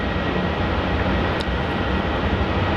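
A steady, loud roar from a plane at Melbourne Airport, a Qantas departure off runway 27, forms a continuous broadband rumble with no talking.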